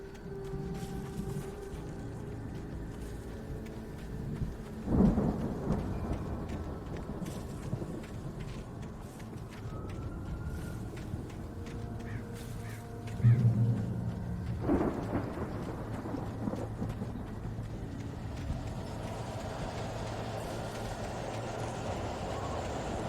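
Raging thunderstorm in the video game Alan Wake: steady heavy rain and wind roar throughout, broken by two loud thunder cracks that roll and rumble away, with no voices.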